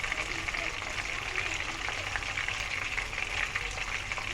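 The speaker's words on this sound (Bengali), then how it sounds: "দেন সেম প্রসেসে বাকি মাছের টুকরোগুলোকেও ভেজে নিচ্ছি।" Tilapia fish pieces frying in oil in a pan, a continuous even sizzle with light crackling, moderately close and steady throughout.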